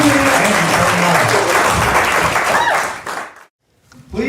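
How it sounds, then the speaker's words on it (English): Indoor audience at a Los Angeles fireside chat and comedy show breaks into loud, dense applause that holds steady for about three seconds, then fades quickly into silence. "Let's give them all a huge, huge round of applause."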